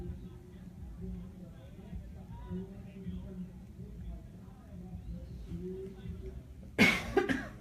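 A low murmur of quiet talk drifts in the background, then a sudden close cough bursts out near the end, followed by a second smaller one.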